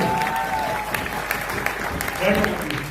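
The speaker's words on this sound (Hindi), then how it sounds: "आप बजाओ तालियां ठोस वाली 20 करोड़ वाली" An audience at a training session breaks into applause, clapping rising and falling over a murmur of voices, with some tonal sounds and talk mixed in near the end.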